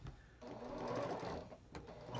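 Sewing machine stitching quilt fabric pieces in a row, a quiet steady mechanical whir that swells and eases over about two seconds, close by.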